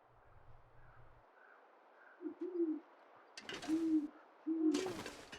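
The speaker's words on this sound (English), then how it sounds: "That's some of the clearest sampling of bear crows I've ever gotten in the long dark" Crows call in a cold, quiet wilderness in the game The Long Dark, a few sparse, distant caws with near silence between them.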